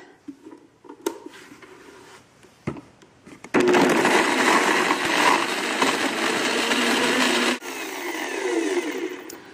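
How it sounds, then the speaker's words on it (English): A blender whirs loudly for several seconds, blending a chocolate avocado shake, after a few clicks and knocks at the start, and the motor pitch dips slightly near the end. "Just blend it long enough to where your avocado is getting smooth."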